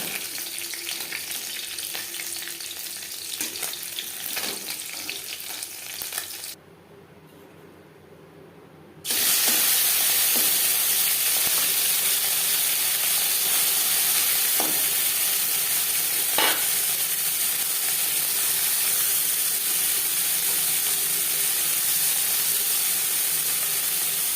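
Black cumin seeds temper in hot oil in a wok already used for frying mourola fish. A loud, steady sizzle and hiss is broken by a short quieter gap, then returns even stronger.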